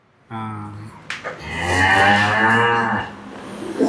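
Heifers moo on a Tamil Nadu dairy farm, one long loud close call after a shorter opening low, rising and holding for over a second before cutting off.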